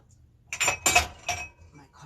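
A cup and cutlery clink a few times in quick bursts as coffee is poured at home, close and clear against a quiet room.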